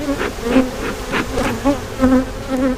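Honey bees buzz steadily from an opened hive during a colony split, a dense close swarm drone with individual bees' pitch rising and falling as they fly near, continuous through the moment with no talking.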